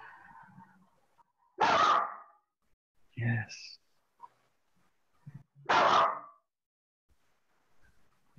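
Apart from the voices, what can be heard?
dog barking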